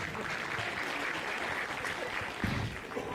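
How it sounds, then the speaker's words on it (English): Applause from a conference audience at a Sacco Indaba gathering in a lodge hall, a steady wash of clapping that holds evenly for a few seconds with no one speaking over it. "A round of applause of Mromnane."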